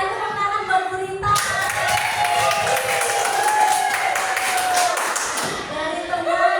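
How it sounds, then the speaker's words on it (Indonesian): A room full of people breaks into brisk clapping that lasts a few seconds over background chatter, then dies down. "Sekali tepuk tangan buat Gurita."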